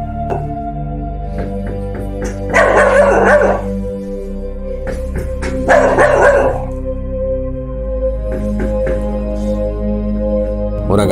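A nervous dog barks in short, loud bursts, two clusters of rapid barks close by over a steady low hum, with a few quieter yips in between.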